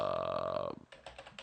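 A few quick, light keystrokes on a computer keyboard follow a sustained tonal hum that cuts off partway through; the tapping is brief and fairly soft.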